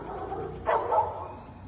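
A dog barks twice in quick succession outdoors in Alvarado, Veracruz, short sharp yelps rising over a low background murmur, fairly distant and brief.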